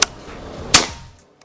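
Two sharp shots from a Ghost Warrior 360cc PCP air rifle crack close by, one right at the start and another a moment later, each snapping off quickly.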